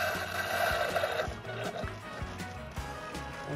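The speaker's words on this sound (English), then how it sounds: "Okay, that's the Keurig, excuse the noise." Keurig coffee maker brewing, a steady low pump hum with gurgling, dripping liquid and faint irregular knocks, moderately quiet.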